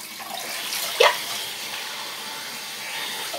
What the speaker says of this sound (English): Gonna wait until the water comes.